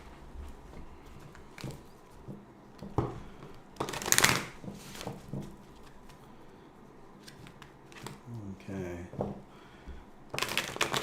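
Deck of cards shuffled up close: a loud riffling burst midway and another near the end, with softer card handling and some quiet talking in between.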